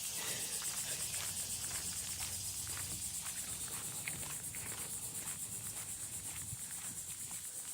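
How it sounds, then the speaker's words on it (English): A heavy emergence of periodical cicadas drones at a campground, a steady high-pitched pulsing buzz that fills the background while footsteps crunch faintly along a path. "So there's a heavy onset of cicadas."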